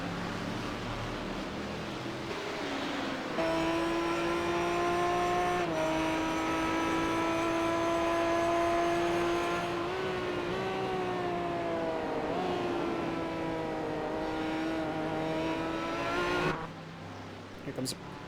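Aston Martin race cars in a Sebring race within a racing game, a loud sustained engine whine holding a steady pitch and then dipping and rising as it shifts, with the drone cutting off near the end.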